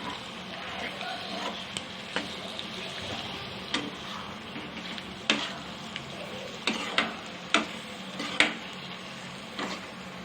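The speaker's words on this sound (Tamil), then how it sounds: "போட்டு நல்லா மசாலாலாம் மிக்ஸ் ஆகிற மாதிரி நல்லா கிண்டி விடணும்." Boiled potatoes being stirred into masala in a pan, a steady sizzle with scattered scraping clicks of the spoon against the metal, close and moderately loud, no voices.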